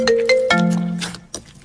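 A mobile phone ringtone plays a short electronic melody of bright, sustained tones for under two seconds, then stops abruptly, with a single short chime-like note at the end.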